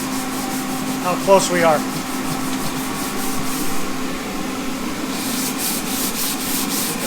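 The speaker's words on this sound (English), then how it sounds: "And then sand it by hand. I mean, sand it with the red primer on it." Hand sanding of a red-primered diesel oil pan, a continuous gritty rubbing with rhythmic strokes growing stronger near the end, while a person speaks briefly early on.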